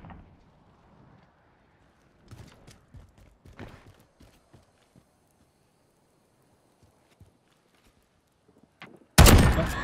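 Gunfire in an online shooter game: scattered sharp shots crack at a distance over several seconds, then a sudden, loud, sustained burst of firing erupts close by.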